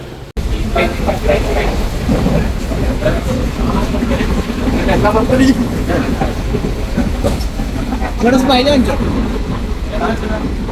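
A moving train rumbles loudly along the tracks with rhythmic clickety-clack, while people talk indistinctly nearby.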